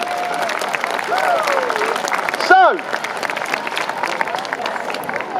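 Spectators at the Kenilworth Castle pageant in England applaud after an Elizabethan gunpowder weapon demonstration, a sustained wash of clapping under a presenter's voice, with a brief sharp sound midway.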